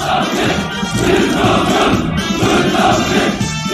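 A large crowd at a North Korean state rally in November shouting in unison, loud and sustained, with rhythmic surges of massed voices and no pauses.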